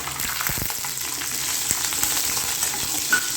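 Curry leaves, small garlic cloves and shallots frying in hot oil for a radish curry, a loud, steady close sizzle with faint occasional stirring scrapes.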